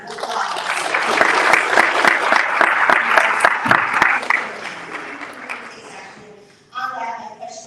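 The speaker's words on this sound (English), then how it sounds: "I want to do a big thank you and round of applause." Town hall audience in Asbury Park bursts into sustained, loud applause and cheering that fades toward the end before a voice begins speaking.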